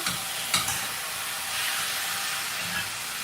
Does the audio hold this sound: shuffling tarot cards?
no